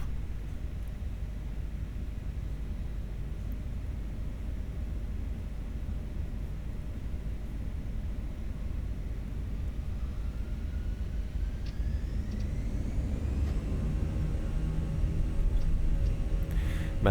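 Airliner engines spooling up for a take-off roll at Innsbruck in a flight simulator: a steady broadband roar and rumble that swells louder toward the end, with rising whine tones.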